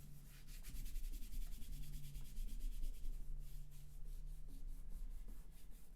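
Rubbing over a thick glued tile backsplash card, a soft, steady scraping rub at close range lasting the whole stretch, with rhythmic strokes audible near the end.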